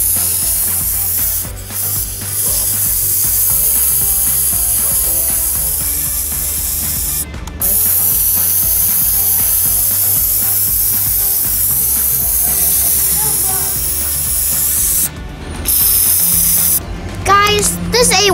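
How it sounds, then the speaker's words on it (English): A spray chalk can hisses in long continuous bursts, loud and close, broken by short pauses and brief rattling near the end, with a person talking at times over the spraying. "you know I'm gonna color with my spray paint"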